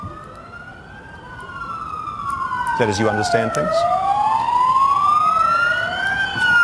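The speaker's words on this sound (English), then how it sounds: "There are a lot of sirens here." Wailing emergency sirens rise and fall, growing louder and overlapping, at the Christchurch mosque shooting, while someone speaks briefly over them.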